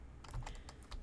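Rapid clicking of computer keyboard keys in a short burst of several uneven taps, fairly quiet and close, during a Minecraft-style multiplayer session with no voices.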